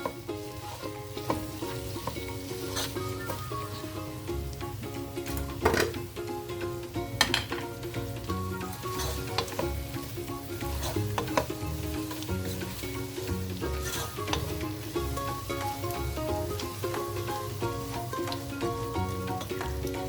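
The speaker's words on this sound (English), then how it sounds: "Now stir in everything together." Biryani masala stirred into onions frying in oil in a pan, giving a steady close sizzle broken by repeated scraping and clinking stirs throughout, with no talking.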